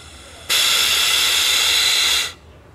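Air blown through a vacuum-operated fuel tap on a Yamaha XV 250 Virago motorcycle makes one steady, loud, close hiss lasting about two seconds, then cuts off, with no talking.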